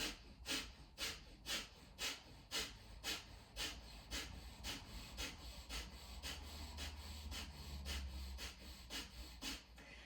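Rapid pumping exhalations in a yoga breathing exercise, a steady run of short forceful breaths at about two per second, close and fairly quiet, with no talking.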